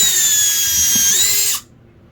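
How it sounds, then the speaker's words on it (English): A cordless power drill whines at high speed while boring into wood from which nails were just removed, a steady close-up buzz that stops abruptly near the end. "I will be using my drill as so seen here."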